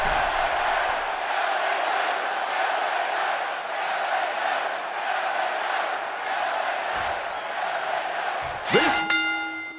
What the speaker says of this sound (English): this crowd, they just love them some LA Knight